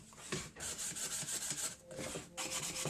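Steady rasping strokes of sandpaper rubbing against a handmade wooden box, repeated back and forth in a continuous rhythm, close up with no talking.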